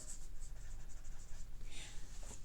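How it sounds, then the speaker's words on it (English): A pen writes on the back of a Chalk Couture transfer, a steady close scratching that runs through the whole moment with no talking. "So on the back of this one, I'm going to write the word home."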